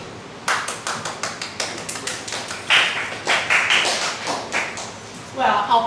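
A small classroom audience claps during a business communication midterm presentation, a string of distinct, fairly close hand claps in a loose rhythm, growing a little denser toward the end, with some chatter in the room.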